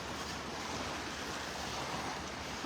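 Ocean waves and surf on a beach in North Naples, Florida, with the tide coming in, make a constant broad hiss and wash, close and fairly soft, with a little wind and no voices.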